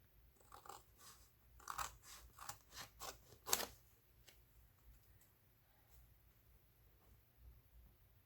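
Scissors snip through collage paper in a quick run of crisp, close cuts, about eight short bursts, then the room goes quiet with faint background hum.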